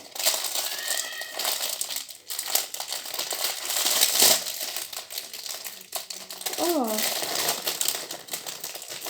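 A crinkly plastic package around a soap mold being torn open and unwrapped, loud continuous rustling and crackling close up, with a voice talking over it in places.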